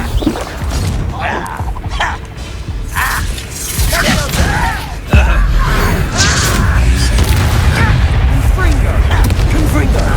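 Blasting curse explosions in Hogwarts Legacy game combat: booming bursts and clattering impacts over a dense, busy layer of effects, with a sharp loud blast about halfway through and a denser roar after it.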